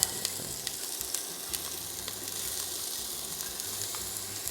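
Garlic and pimento sizzle steadily in hot mustard oil, a dense, even crackle and hiss with small pops, moderately quiet and uninterrupted.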